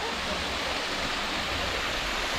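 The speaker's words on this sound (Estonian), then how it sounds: "Krumba Falls või?" Krumba Falls waterfall roaring steadily, a loud, dense, unbroken rush of falling water heard up close throughout, with no voices.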